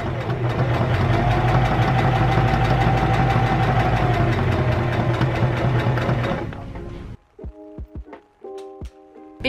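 A sewing machine stitches the curved edge of a fabric face mask, running in a loud steady whirring hum for several seconds, then slowing to a stop followed by a few sparse clicks and taps.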